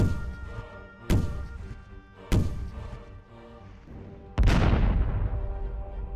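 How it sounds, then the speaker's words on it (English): Pirates fire a cannon into the sky: three deep booms, each rumbling and fading, with the last the loudest and longest. "At that moment, the pirates fired their cannon into the sky."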